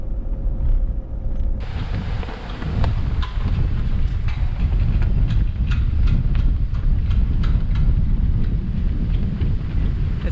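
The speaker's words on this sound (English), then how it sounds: "It's a little bit windy today" Wind blows outdoors in Minnesota, buffeting the microphone with a loud, continuous low rumble and scattered clicks that persist for the whole stretch.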